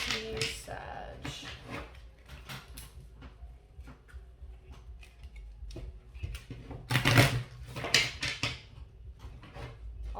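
Tarot cards shuffle in bursts of soft riffling and slapping, close and intermittent, with handling clicks between and a person speaking quietly at times.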